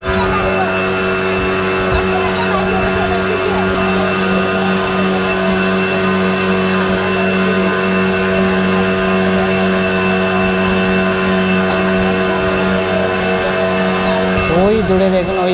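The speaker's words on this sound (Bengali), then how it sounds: "আর মোটরের ফুল সাউন্ড, পুরা সাউন্ড, কিচ্ছু শোনা যাচ্ছে না।" A boat's motor drones at full throttle on a backwater trip toward Paradise Beach in Pondicherry, a loud, steady engine hum with constant tone that fills the whole stretch without letup.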